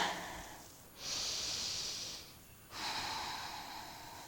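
Someone breathes audibly through a Pilates full-body stretch, with two long, close exhales or inhales separated by a short pause.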